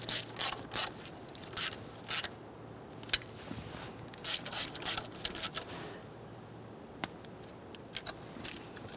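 A hand ratchet snugs bolts on the intake manifold bracket of a 1999–2006 Chevrolet Silverado 1500 with a 4.3 engine, giving quiet, close bursts of rapid clicking separated by pauses.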